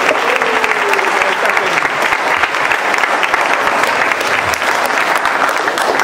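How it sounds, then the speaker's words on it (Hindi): A large audience at a musical event breaks into loud, sustained applause, dense clapping filling the whole stretch evenly with no pauses. "हम जोरदार ताली खुदा के लिए बजाते हैं"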